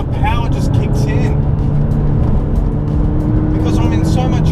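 A 2016 McLaren 570S pulling hard at high revs, its engine a loud, steady drone held without letup, with a voice talking over it now and then.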